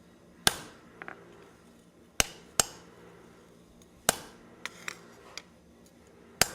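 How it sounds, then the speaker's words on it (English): Sharp metal taps of a chisel cutting veins into hot metal petals sound at irregular intervals, a few loud ringing strikes with softer light taps between them, close by in a quiet space. "we'll go ahead and chisel in some veins here."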